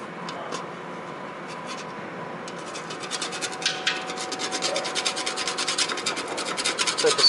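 A scratch-off card is rubbed and scraped with a steady rasping that starts faint and grows louder and denser in quick repeated strokes toward the end.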